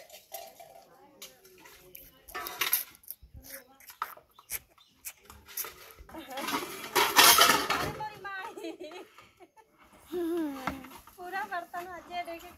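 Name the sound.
washing dishes outdoors, pots and utensils clattering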